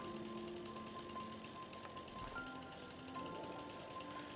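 A chainsaw in a snowy logging video game cuts through a tree with a steady, buzzing mechanical drone, running continuously at close range with slight shifts in pitch as it bites.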